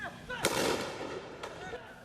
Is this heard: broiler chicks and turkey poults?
no